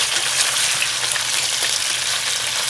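Battered chicken pieces for General Tso's chicken fry in a pan on medium-high to high heat, giving a loud, dense, steady sizzle and crackle with no voices.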